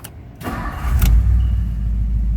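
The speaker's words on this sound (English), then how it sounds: "So easily it fires up." A 1957 Mercury Montclair two-door hardtop cranks briefly with a whirring starter, then fires up and settles into a loud, steady low idle close by.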